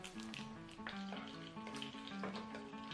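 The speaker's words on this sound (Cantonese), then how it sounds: "煎到金黃反轉，咁個火唔好太大" Shrimp bean curd sheet rolls sizzle quietly in a pan over moderate heat, a soft crackling fry with a few light scrapes, close and faint, no talking.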